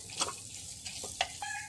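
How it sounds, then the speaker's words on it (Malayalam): Chopped chillies and onion sizzle softly in a pan while being stirred for a Kerala green tomato curry, with a few scraping stirs and no talk. "ഇനി ഇതിലേക്ക് 2-3 തൊണ്ടൻ മുളക്, സാമ്പാർ മുളക് അരിഞ്ഞത് ചേർത്ത് കൊടുക്കാം. എന്നിട്ട് ഇതൊന്ന് വാട്ടിക്കൊടുക്കാം."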